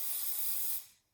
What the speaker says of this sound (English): And I'm going to spray my hands.